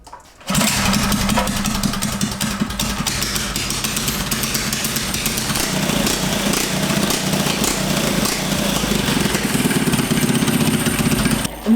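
Small engine on a homemade tank-tread pit trike starts up and runs, a loud close sputtering idle with a rough rhythmic chug lasting several seconds, no one speaking.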